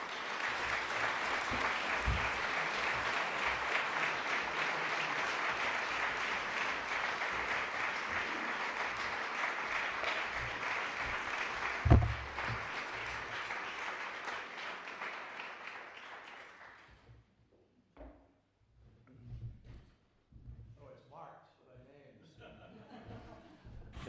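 An audience applauds steadily as Secretary Kerry is welcomed onto the stage at a climate lecture. The loud, sustained clapping lasts about sixteen seconds, then fades out and gives way to a few scattered sounds.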